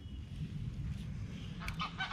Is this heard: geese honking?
yes